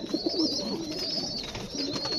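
An agitated male pigeon coos in low, rolling bursts close by, the throaty calls steady across the moment over a faint high whine and background noise.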